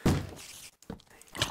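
Heavy, dull thuds of someone banging on doors in the video game Magic Maiden: a loud blow at the start, then two more bangs spaced about half a second apart over a dense, noisy game background.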